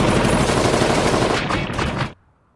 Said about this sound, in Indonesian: tak berhenti menembaki mereka dari atas